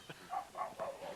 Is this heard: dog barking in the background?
yes